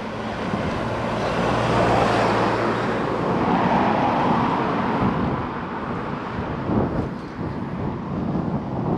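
Steady road traffic rushes past a lorry and tour buses in the village of Laragh, a continuous broadband roar with wind buffeting the microphone, loud and close throughout, with no talking.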